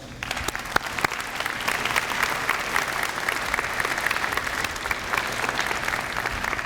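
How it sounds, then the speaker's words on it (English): An audience applauds new students at a university fall convocation, a dense, steady clapping from a large crowd that holds evenly throughout. "Please help me give them a round of applause"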